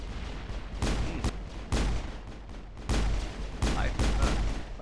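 Pistol shots fired in the Mass Effect video game, a run of sharp loud bangs spaced roughly a second apart, each with a short decaying tail over a constant game background.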